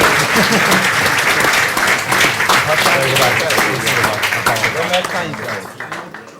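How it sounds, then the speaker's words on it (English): An evening crowd at a memorial gathering gives a loud round of applause for visiting guests from Banner County, thick clapping with scattered voices and cheers mixed in, fading gradually toward the end. "I think they deserve a round of applause coming all the way from the Banner County tonight"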